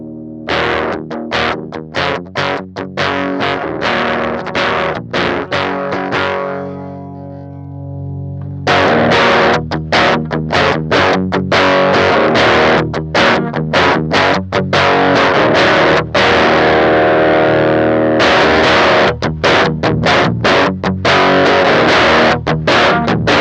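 Electric guitar through an Electrojunk BOOst treble boost pedal plays bright, driven chords and picked notes, swelling from a quiet sustained stretch to loud, steady playing as the boost is turned up, with no talking.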